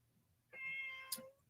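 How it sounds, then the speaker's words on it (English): A house cat meows once, a drawn-out harmonic cry close to the microphone behind a person on a live web-development workshop stream, ending with a short sharper squeak. "My stupid cat is behind me."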